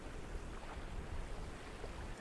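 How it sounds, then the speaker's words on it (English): Ocean waves crash against rocks off El Toro, Saipan, a steady broadband wash of surf with wind buffeting the microphone, continuous and fairly loud throughout with no voices. "you will be able to see some clips from the water crashing up against those rocks"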